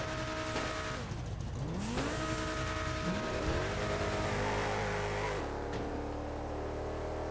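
An Audi RS5 and a Lamborghini Aventador SVJ drag race in GTA 5, with loud engines revving and rising through gear shifts, tires squealing, and pitch dropping as the cars pull away.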